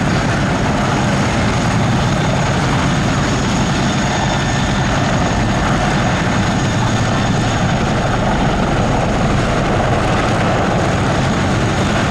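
An AgustaWestland Wildcat helicopter performs a Royal Navy display at an air show, its rotor and engine roar loud and continuous throughout, steady with no pauses.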